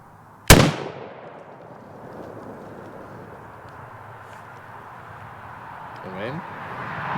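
A bolt-action .308 rifle fired once at a shooting range: a single sharp, loud crack with a ringing tail that fades into quiet background.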